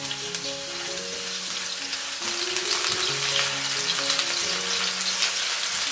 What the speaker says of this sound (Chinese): 起锅热油一些爆香姜片